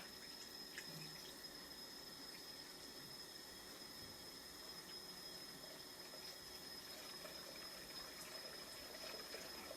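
Rice being washed in water, with a steady, continuous sloshing and running-water wash that stays even and close throughout, with no talking over it.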